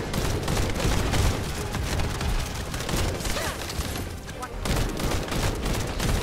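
Dense, continuous gunfire from a fast-paced firefight in the shooter game The First Descendant, with rapid bursts and blasts filling the whole stretch and voices mixed in beneath the shooting.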